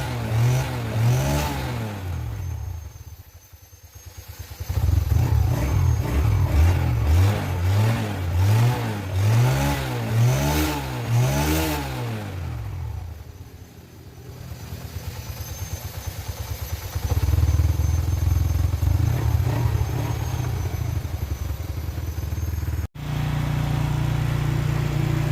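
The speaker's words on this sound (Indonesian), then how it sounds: "Mesinnya sudah nyala dan kita akan runningkan." Honda Revo Absolute motorcycle engine, freshly reassembled after running on old oil, revved repeatedly in rising and falling bursts. It then settles into a loud, even idle nearby.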